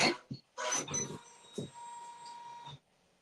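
A Janome Memory Craft 550E embroidery machine cuts its thread with short mechanical clunks and whirs, then gives a sustained tonal hum before stopping. The sound is close and quiet, with a brief pause in the middle.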